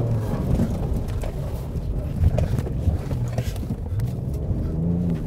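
Ford Ranger Raptor pickup racing cross-country off-road at around 70-80 km/h, with a loud rumbling roar, wind buffeting and bumps, and someone talking over it.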